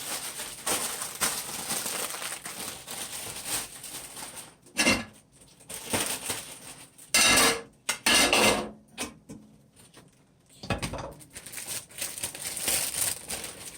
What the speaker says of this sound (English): I'm going to go ahead and start grab these kale greens and start stuffing them into my pot